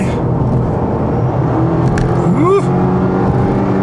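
A Subaru Levorg STI Sport EX accelerates hard on a highway, its engine note rising steadily under loud road and wind roar, with a short voice exclamation over it.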